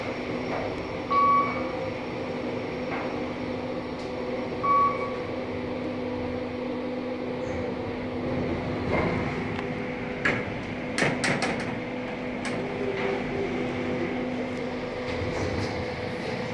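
A KONE EcoDisc elevator in a mall parking deck hums steadily as it starts up and runs, with a constant motor drone, a couple of brief beeps near the start and scattered clicks and knocks later, close by with no talking.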